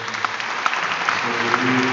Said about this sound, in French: Alors, on peut applaudir nos petites sœurs